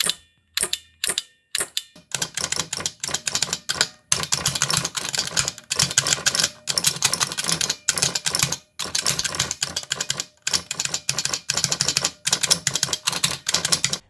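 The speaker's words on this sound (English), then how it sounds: "Here's the solenoid in action, with the bracket fully extended to show the full force of the solenoid." A Model F keyboard's solenoid, mounted with its bracket fully extended, fires a few sparse, sharp clicks before breaking into a dense, rapid clatter of loud, close mechanical taps that runs continuously with only brief pauses.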